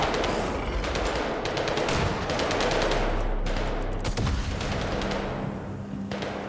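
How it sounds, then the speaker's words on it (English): Video game gunfire crackles in rapid bursts, with machine-gun rattles and heavy thuds from grenade explosions, loud and continuous over several seconds with no talk. "Why are those grenade sounds so"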